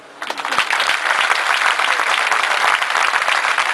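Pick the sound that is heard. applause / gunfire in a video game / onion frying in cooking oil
applause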